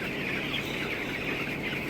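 Flock of 14-day-old broiler chicks in a large poultry farm of some 22,000 birds, a dense continuous wash of clucking and chirping from many birds at once, with no single call standing out.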